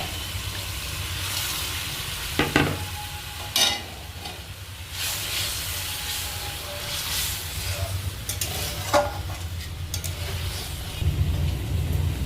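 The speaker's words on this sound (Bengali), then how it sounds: "দেখো ঝোলটা কিন্তু ভালো মতো ফুটে উঠেছে।" Chicken gravy in a pot bubbles and simmers steadily in a home kitchen during a winter chicken recipe, with a soft continuous hiss, occasional clinks and stirring knocks, and no talking.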